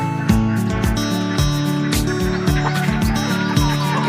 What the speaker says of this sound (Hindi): जहां पे बत्तख है, कुछ देसी मुर्गा मुर्गी है